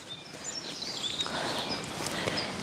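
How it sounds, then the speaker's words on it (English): Faint birdsong outdoors at a campsite in Devon, thin high chirps and trills scattered over a soft background hush, fairly distant. "Can you still hear birds, Sue?"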